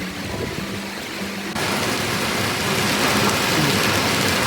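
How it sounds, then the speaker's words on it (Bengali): Hail and heavy rain pelt down in a forest, a dense roaring hiss that swells sharply partway through and then stays loud and steady, with no voices. "দেখো শিলাবৃষ্টি হচ্ছে, এই দেখো কত শিল পড়েছে।"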